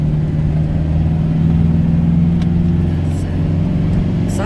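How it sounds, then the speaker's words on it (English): Steady loud rumble of a motorhome driving on a road in windy conditions, continuous low engine and road noise with broad wind roar buffeting throughout, a couple of brief higher gusts, no clear speech. "Side wind."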